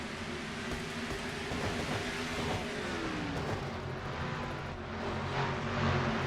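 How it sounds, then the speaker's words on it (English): Stock race cars roar around an oval track in a racing video game during a Goody's Body Pain 500 race, with several engines droning loudly and continuously, rising and swelling slightly as cars jostle for position, and no talk. "Sykes fights back on the low side of the racetrack here in the number 90 machine."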